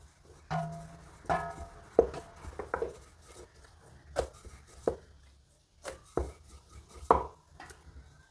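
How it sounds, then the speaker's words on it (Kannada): Paratha dough made with wheat flour being rolled out with a rolling pin, giving scattered knocks and thumps of the pin against the board. The knocks come at an uneven pace, are moderately close and have no talk over them. "ಈಗ ಗೋಧಿ ಹಿಟ್ಟು ಹಾಕ್ಕೊಂಡು ಮೇಲ್ಗಡೆ ಲಟ್ಟಿಸ್ಕೊಳ್ತೀನಿ"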